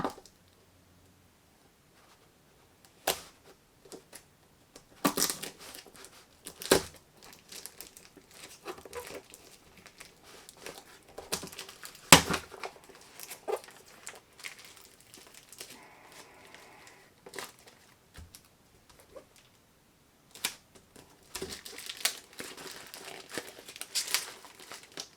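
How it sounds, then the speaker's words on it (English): A cardboard shipping box holding a jewelry sample is cut open, with scattered crinkling, tearing and scraping sounds in irregular bursts, close and fairly quiet, with no talk. "Looks like we have a little bit more cutting to do to get this bad boy open."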